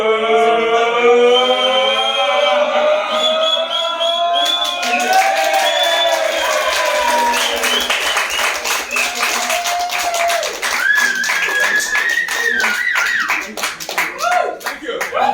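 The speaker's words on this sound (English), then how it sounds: "I will tell you when to applaud." A comedy audience at a show in Tring bursts into dense, steady clapping that carries on to the end, with a voice talking loudly over the start and continuing above the applause.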